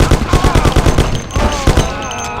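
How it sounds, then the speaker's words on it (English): Rapid gunfire in the Mafia video game, a fast burst of evenly spaced loud shots close up, followed by a few more scattered shots with a voice talking over them. "Lord, it's shooting here."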